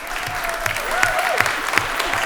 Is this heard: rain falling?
no